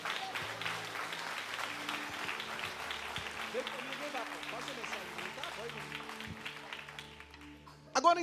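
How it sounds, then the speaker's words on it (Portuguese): Church congregation clapping during an evangelical Baptist service, a soft continuous patter of many hands under sustained organ or keyboard notes and faint voices, fading toward the end before a brief louder burst. "Pode aplaudir a Jesus."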